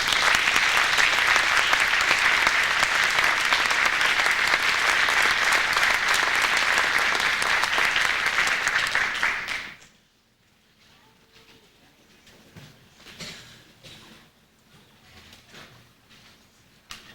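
Audience applause at a community service awards ceremony, sustained loud clapping from a crowd for about ten seconds before cutting off to a quiet room with faint rustling.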